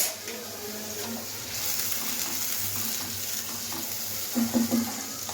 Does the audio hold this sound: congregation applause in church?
no